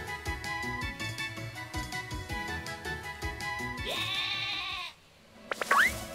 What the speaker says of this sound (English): I heard the sheep.